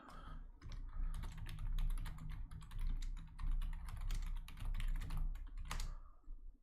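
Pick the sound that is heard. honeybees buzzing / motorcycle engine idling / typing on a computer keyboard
typing on a computer keyboard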